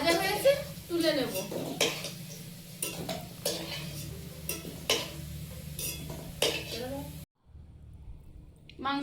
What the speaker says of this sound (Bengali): আলুগুলো ভাজা হয়েছে, তুলে নেব